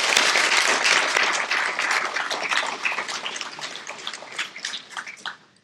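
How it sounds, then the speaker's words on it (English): Audience applause for police officers at a banquet, dense and loud at first, thinning into scattered claps before stopping. "Give a round of applause for the officers here."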